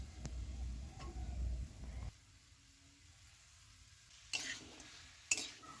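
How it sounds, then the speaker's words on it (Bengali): Cauliflower and potato pieces going into ground spice paste in a pan, with a brief stirring and scraping clatter at the start, a quieter stretch of soft frying, then two sharp clanks of a utensil near the end. "ফুলকপি আর আলুগুলো দিয়ে দিচ্ছি।"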